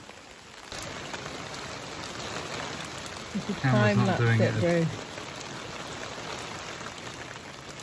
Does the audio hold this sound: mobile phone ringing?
no